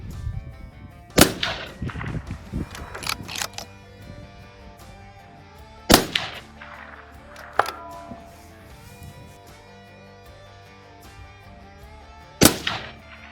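Rifle shots ring out at a clay target range, three sharp cracks spaced several seconds apart with quieter clicks and handling noise between them.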